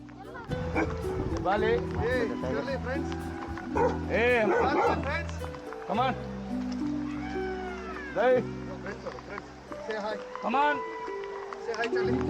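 A dog barks and yips repeatedly at close range, with a cat meowing and people talking over the animal sounds.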